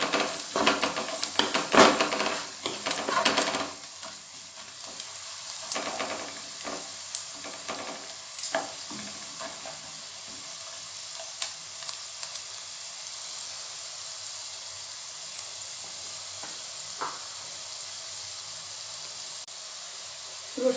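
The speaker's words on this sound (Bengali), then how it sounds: "রসুন ভাজা হয়ে গেছে" Chopped garlic fries gently in oil in a pan, making a soft, continuous sizzle with a few clinks of stirring early on, fading to a quiet hiss.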